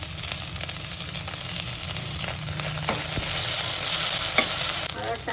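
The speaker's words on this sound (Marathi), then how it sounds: "आणि कांदा टाकायचा आले लसूण पेस्ट टाकायची कढीपत्ता टाकायचा आणि मस्त मिक्स करून घ्यायचं" Onion, ginger-garlic paste and curry leaves fry and are stirred in a hot pan, giving a steady, close sizzle with a few soft scraping strokes and no talking.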